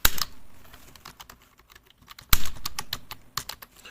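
Keys clatter on a computer keyboard as a channel name is typed into a Microsoft Word document, a quick run of close, crisp clicks, a pause of scattered taps, then another dense burst of keystrokes.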